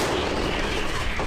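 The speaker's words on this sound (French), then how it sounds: "L'artillerie, c'est elle dont on parle" Artillery fire booms as a loud, dense blast that fills the whole short stretch with rumbling noise and no voices.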